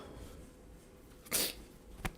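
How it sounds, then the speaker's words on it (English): A single sharp sneeze bursts out close by, followed a moment later by a brief smaller burst, over quiet background. "I keep having to fucking sneeze"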